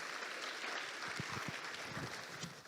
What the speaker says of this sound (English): Can we just give the private sector a round of applause again